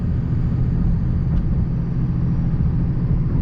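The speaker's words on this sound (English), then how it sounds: "so you guys can hear the engine, the turbo noise" A Cummins diesel truck engine with a six-speed runs at a steady idle, its turbo adding a faint whine over a dense, continuous low rumble heard close up, with no talking.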